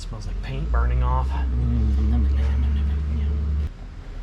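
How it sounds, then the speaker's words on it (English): A 1981 VW Rabbit running on a new fuel-injected engine: a steady, close engine drone throughout, with someone talking over it for most of the clip. "that's it running on the new engine with the fuel injection"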